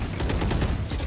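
Rapid bursts of gunfire in a tactical shooter match, probably Counter-Strike, dense and continuous over about a second, with repeated sharp cracks at close range and no talk.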